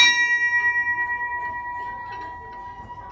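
A small ship's bell aboard HMAS Castlemaine rings out with a clear, high tone that wavers as it fades, with faint rustling nearby toward the end.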